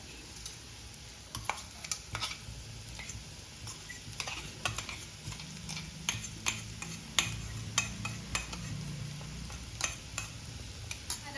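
Ground coconut paste stirred into cooked snake gourd in a pan for an egg thoran: irregular scraping and tapping of a spoon against the pan over a soft sizzle, fairly quiet and close.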